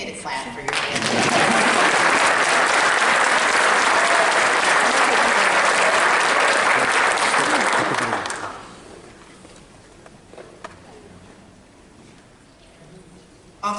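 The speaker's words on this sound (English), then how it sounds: "It's okay to clap for your family." An audience claps loudly and continuously for about eight seconds at a St. Louis Metropolitan Police graduation ceremony, then the applause fades to quiet room noise.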